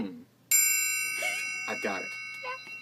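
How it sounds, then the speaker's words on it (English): A triangle is struck once and rings with a bright, shimmering sustain that lingers while a person talks over it. "One of my favorites is the understated triangle."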